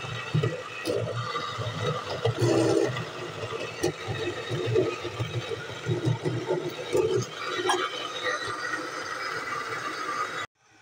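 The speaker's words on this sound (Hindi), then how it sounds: "इन सब चीज़ों को हम जूसर में डालकर पीस लेंगे" A kitchen juicer grinds rice, tomatoes, ginger, garlic and green chillies with a little water, giving a steady, fairly loud whirring churn with rough, uneven surges that runs for about ten seconds and then stops abruptly.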